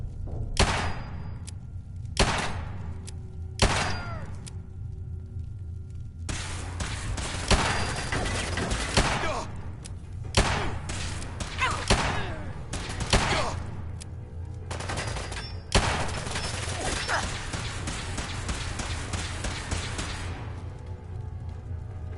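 Gunfire in Fallout 4 on PS4: a string of sharp single shots at uneven spacing, then heavier rapid bursts with thuds and impacts, loud and continuous over the game's background rumble.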